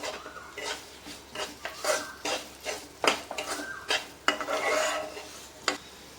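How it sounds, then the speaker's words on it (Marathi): Semolina roasted in a pan together with raisins and cashews, stirred with repeated scraping and rasping strokes of a spoon against the pan, close up, with light clinks and a faint sizzle and no talking. "बेदाणे काजू ड्रायफ्रूट्स आहेत ते त्याच्यासोबत भाजून घ्यायचे आहे"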